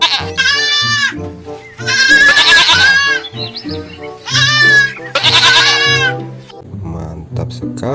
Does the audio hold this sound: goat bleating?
yes